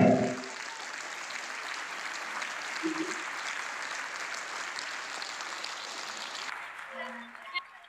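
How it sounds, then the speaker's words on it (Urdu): An audience at a school farewell ceremony breaks into sustained, fairly distant applause, a broad wash of clapping that fades out near the end, with brief voices and a microphone bump. "آپ لوگوں کی زوردار تالیاں"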